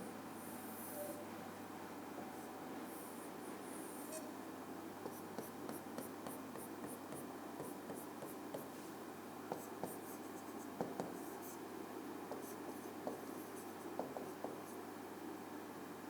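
Marker or chalk strokes drawing a distance diagram on a board during a maths lesson, a faint continuous scratching with short tapping accents over steady room noise, no talk.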